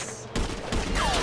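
Gunfire in the video game Grand Theft Auto V, with a few sharp, loud shots packed into about a second, followed by a falling whistle-like tone.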